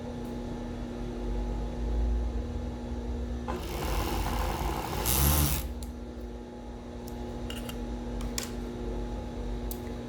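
A sewing machine stitches fabric for a thong waistband in a short, fast mechanical burst of whirring amid quiet room tone, with small clicks and handling noises before and after.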